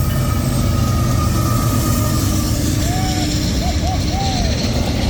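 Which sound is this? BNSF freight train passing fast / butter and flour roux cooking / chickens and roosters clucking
BNSF freight train passing fast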